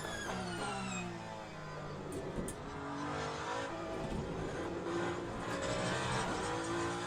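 An LMP2 race car in the Le Mans Ultimate sim racing game drives a flying lap at Le Mans, with a steady engine whine rising and falling through the gears, tire noise and brief squeals, no voices.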